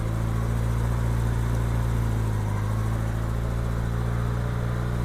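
A 1987 Honda GL1200 Gold Wing motorcycle engine idles high and steady during carburetor synchronization, a continuous low droning hum with no talking over it.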